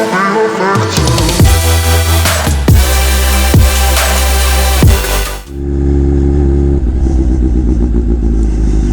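Kawasaki Ninja H2 motorcycle engine idling and warming up, a loud, steady close-up rumble with several sharp blips of the throttle in the first half before it settles into an even idle.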